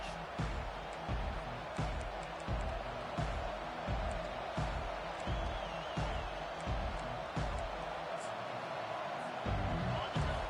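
A stadium crowd at an American football game roars steadily as a broad, continuous wash of noise, with a commentator talking over it throughout.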